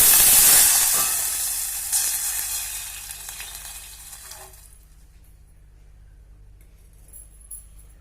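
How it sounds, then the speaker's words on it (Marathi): Water, about two cups, poured into a hot pan of spiced tempering with crushed garlic, asafoetida, turmeric and dried red chillies for horse gram soup, giving a loud hissing sizzle that quickly fades to a faint simmer. "पाणी घालणार आहोत अंदाजे दोन कप"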